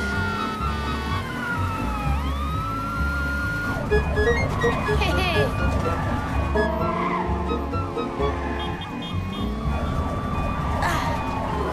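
An ambulance siren wails, rising and falling continuously under busy background noise, with a voice briefly chiming in.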